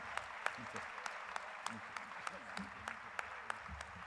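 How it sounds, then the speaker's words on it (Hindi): Audience applause at a religious ceremony for a Jain monk's 38th initiation anniversary, heard faintly and at a distance as scattered sharp claps over a low murmur of crowd and voices. "आपकी तालियां अनवरत जारी रहना"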